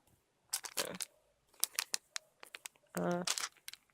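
A taped package is opened with scissors: sharp snips, crinkling and a long tearing rip of tape come in scattered, close bursts against a quiet background.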